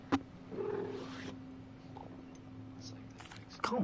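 A cat's short meow and soft purring in Hogwarts Legacy, brief and close, with faint background hum and a couple of sharp clicks.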